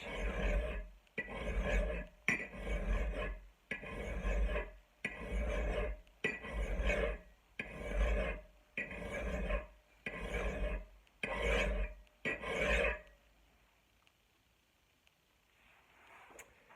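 A coarse file rasps along an axe blade in about a dozen steady, evenly spaced strokes, close and loud, then stops, leaving near silence.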